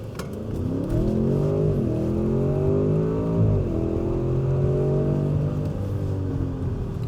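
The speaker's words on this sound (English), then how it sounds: "we're going to try to take off from a sort of stop and see how it does." 2023 Audi S8 with a 4.0T V8 and Quattro drive pulling away hard from a near stop, engine rising in pitch through each gear with clear shift dips, heard loud from inside the cabin.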